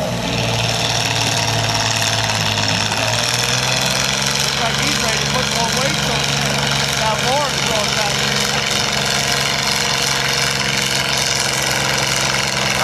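A heavy tractor engine at a 4H tractor pull, rumbling and idling steadily and close, with a constant knocking drone throughout and faint crowd noise beneath.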